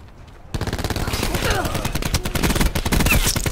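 ICR assault rifle firing in Call of Duty Black Ops 4 beta: rapid, loud, continuous automatic bursts start abruptly after a quiet half-second and run to the end as a dense, crackling stream of shots.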